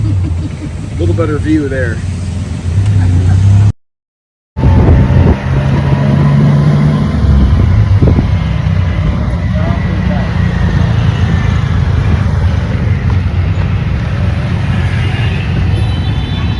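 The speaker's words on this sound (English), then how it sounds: "Cue the gratuitous tuk-tuk footage." A tuk-tuk rides through Bangkok traffic, its engine puttering steadily close by with wind buffeting throughout and people talking over it.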